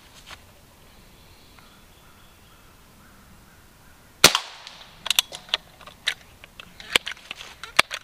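A Crosman 1377 air pistol fired offhand at a target: after a quiet stretch with faint bird calls, a sharp close crack starts a series of irregular pops and snaps, loud and alone.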